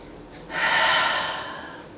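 A single deep, audible breath during a beginner Pilates single-leg-circle exercise, a close, breathy rush that swells then slowly fades with no words.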